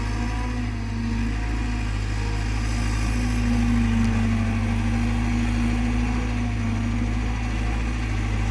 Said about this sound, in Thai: รถขุดนะครับแคท320นะฮะ 320 เป็น รถขุดเบรนอเมริกานะครับ